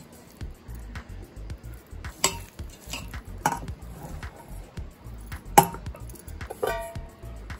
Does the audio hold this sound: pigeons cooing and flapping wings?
no